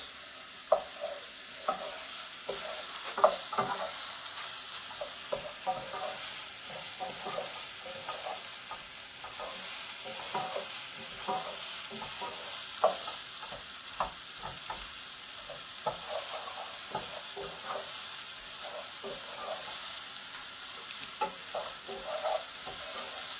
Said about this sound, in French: les oignons sont déjà en train de prendre un petit peu la couleur du truc